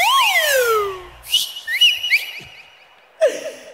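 A person whistles loudly nearby in several rising and falling slides, followed by a few shorter chirpy whistles and one final sharp burst, with no talk over it.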